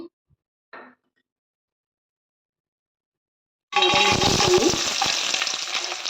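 Cashews hitting hot oil in a kadai on a gas stove: a couple of faint knocks and near silence, then a sudden loud, steady sizzle and crackle of frying close by, with no speech.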